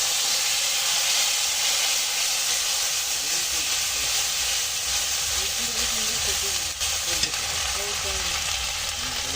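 Water hits ground spices frying in a pan, coriander paste and cumin, during a chicken curry, and a loud steady sizzle and hiss runs throughout with faint stirring scrapes and a few clinks near the middle.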